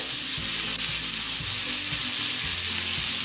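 Green chilies frying in hot oil for a Gujarati mirchi sambharo pickle, a loud, dense, continuous close-up sizzle with steady hiss and no pauses, no voices.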